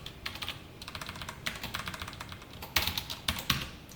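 A computer keyboard typed on during a JSP coding lesson: quick, close clicking in short bursts, denser toward the end, with no voice.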